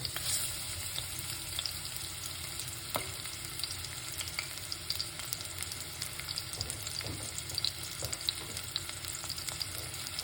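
A medium red onion frying in very hot oil in a pan, continuous close sizzling with scattered pops and crackles throughout.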